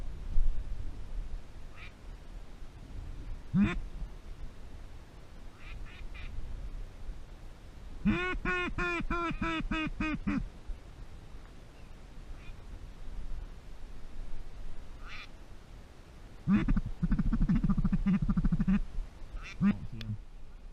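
Ducks quack in repeated bursts during a 2016 duck hunt outdoors, with a long harmonic rattling call midway and a busy cluster of quacks near the end, while people talk quietly between calls.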